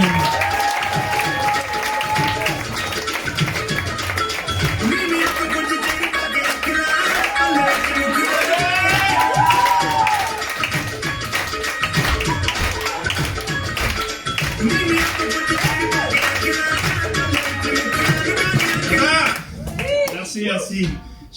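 A crowd in a hall at an open-mic music night stamps and claps together, a dense, loud, continuous rumble of thumps and applause that carries on for a long stretch before suddenly dropping away.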